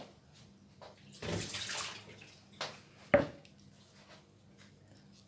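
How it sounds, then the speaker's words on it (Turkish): Soaked toilet paper wrung out by hand for a glue-and-starch paper mix, giving a short burst of wet squishing and trickling water, then a sharp splat, close and fairly quiet over low background hum. "İyice sıkıp suyunu alıyoruz."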